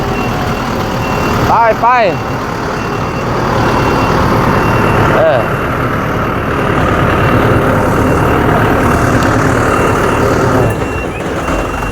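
A truck delivering a load of sand to a house, its engine rumbling close by with a few rising engine whines, while people talk throughout.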